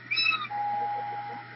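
A kitten gives a short, high meow close by, quickly followed by a thin, drawn-out tonal sound, over a quiet indoor background with a faint steady hum.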